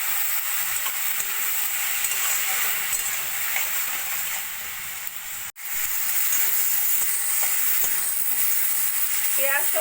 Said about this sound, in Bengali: দিয়ে সবকিছু ভাজা ভাজা করে নেব।